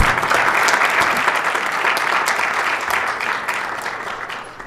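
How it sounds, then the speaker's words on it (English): Applause from the audience at a mayor and council meeting, a steady burst of many hands clapping that gradually fades over a few seconds. "So you guys do me a favor and give a really big round of applause for Kevin and give him a thumbs up."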